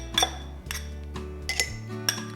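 Coleslaw dressing is poured and scraped into a glass jar, giving several bright clinks and taps of a utensil against the glass at a close, uneven rhythm, with no talking.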